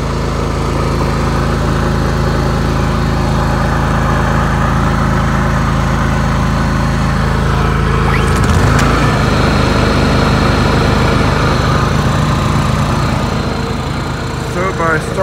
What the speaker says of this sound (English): Starting the second generator, it takes its appropriate load off of the big generator